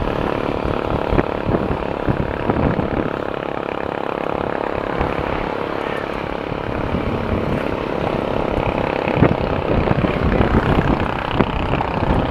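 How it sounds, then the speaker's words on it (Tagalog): An airplane passes overhead as a steady, broad engine drone that holds at an even loudness throughout, with no talking. "At si Papa Kokoy malamang nasa himpapawid sa eroplano na yan"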